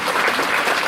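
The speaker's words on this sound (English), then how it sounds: "She deserves a huge round of applause." Audience at a school annual prize distribution applauds a student prize winner, a brief, dense wash of many hands clapping at steady loudness.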